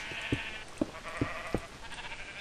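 Several Minecraft sheep bleat in short bursts, four distinct baas spaced about half a second apart over a steady background hum, with no talk during them.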